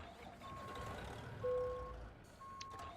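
A truck idles in American Truck Simulator while steady reversing beeps sound at intervals, with low engine rumble underneath and a brief louder swell midway; no one speaks.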